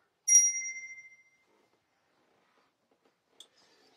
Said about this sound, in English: So watch me ringing the bell,